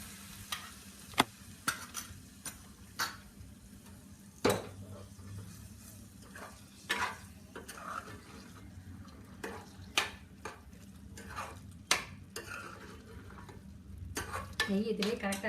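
Carrot halwa with raisins stirred in a pan, a spoon scraping and clinking against the metal in a steady run of sharp strokes over a soft, continuous sizzle of ghee, close and fairly quiet, with no talking.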